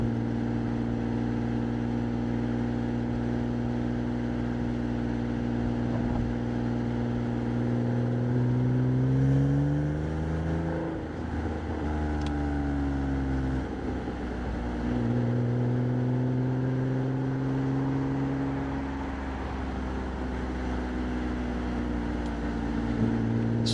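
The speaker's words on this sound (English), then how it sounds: "you can hear that engine. So this is just second gear," A Porsche 987 Boxster cruises in second gear on an early-morning drive from Windsor, its engine giving a steady, prominent hum that rises and falls with small shifts in revs. The sound stays close and continuous throughout, with no talking.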